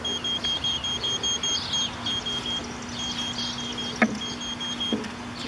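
A high electronic beep from an invisible dog fence collar repeats in a quick steady pulse near the boundary line, with a couple of louder clicks, outdoors against faint background noise.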